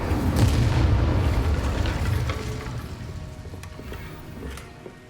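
The Incendio fire spell in Hogwarts Legacy erupts in a deep, booming blast that roars at the start, then crackles and fades over several seconds.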